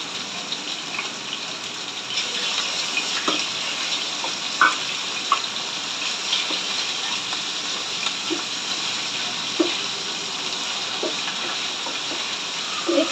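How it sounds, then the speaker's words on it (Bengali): Chicken frying in a pan gives a steady, even sizzle with scattered small pops and crackles throughout, close by, and no voices. "এই চিকেনটা আমি ভালোভাবে ভেজে নিচ্ছি।"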